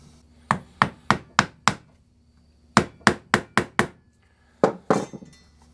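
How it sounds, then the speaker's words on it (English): A mallet tapping an electric guitar neck piece into a tight-fitting slot by hand, sharp close knocks in three bursts of five, five and two, evenly spaced with short pauses between groups. "Take my mallet."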